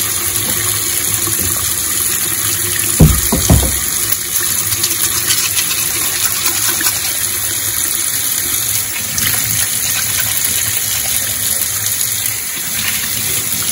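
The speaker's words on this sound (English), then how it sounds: "take like generic blue grease removing dish soap and I wash them up." Hotrod frame parts are washed in water with blue grease-cutting dish soap, a continuous loud running and gushing of water with a brief splash near the start and no talking.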